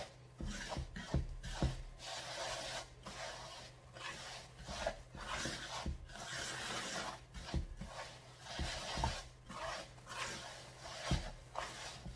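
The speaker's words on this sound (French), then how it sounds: "Et là, on continue à mélanger." Almond cake batter for kalb el louz is stirred and mixed in a bowl, giving continuous rough scraping and rubbing strokes at a fairly quick, uneven rhythm, close and moderately quiet.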